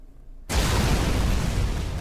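A flame bullets ability fires in a video game, bursting in abruptly after a brief near-silence and becoming a loud, continuous roar of fiery explosions that holds steady to the end.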